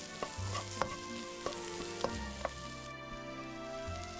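Pre-cooked nasi goreng (fried rice) fries outdoors in a pan with a steady close sizzle, while a utensil makes several sharp taps and scrapes at irregular intervals.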